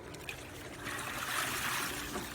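Water draining and trickling out of an Aiper Seagull 3000 cordless robotic pool cleaner lifted from a pool, a steady, soft splashing stream that swells slightly midway, heard alone.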